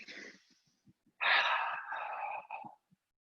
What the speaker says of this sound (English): Give me 2 more big breaths here.